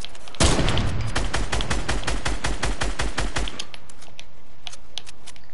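Rapid, loud volleys of gunfire in a shooter game, a fast rattling burst of several seconds that cuts off abruptly, followed by a few faint scattered shots.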